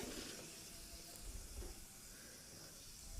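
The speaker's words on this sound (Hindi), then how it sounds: "और जैसे ही जीरा चटक जाएगा हम इसमें थोड़े से कड़ी पत्ते डालेंगे" Cumin seeds and curry leaves sizzle in hot mustard oil, a steady close hiss with faint crackle running unbroken throughout.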